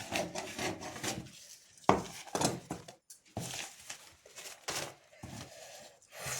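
Scissors cut through blouse fabric in short, irregular scraping snips separated by brief pauses, close up and moderately loud, with no talking.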